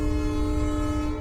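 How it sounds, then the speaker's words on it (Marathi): A loud, sustained train horn from a Churchgate local train in Mumbai, used as a horror-story sound effect, holds one steady tone with no pause and no talking. "तो रेल्वेच्या हॉर्नचा आवाज ऐकान"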